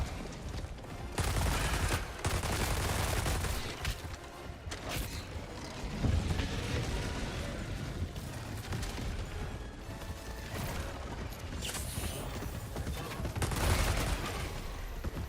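Rapid sustained minigun fire against bugs in the video game Helldivers 2, a dense rattling fusillade with mechanical whirring and booming impacts, loud and continuous across the stretch with brief gaps.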